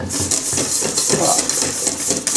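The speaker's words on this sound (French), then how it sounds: "Et on mélange rapidement" A chocolate mousse mixture for a three-chocolate yule log being whisked quickly in a bowl, a steady rapid scraping and tapping of the whisk against the bowl.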